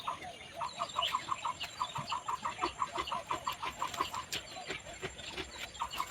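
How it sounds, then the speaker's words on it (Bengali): Birds call in a field in the morning, a quick, rhythmic run of clucking or chirping notes repeating at moderate distance with no talk. "আর শোনো কত পাখির কিচিরমিচির"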